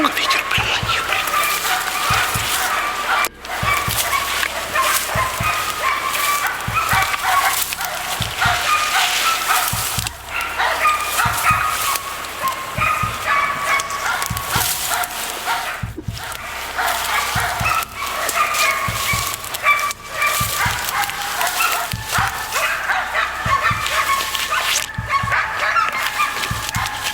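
A dog barks repeatedly in a steady series over a windy outdoor background in the taiga during a bear hunt, with people talking intermittently.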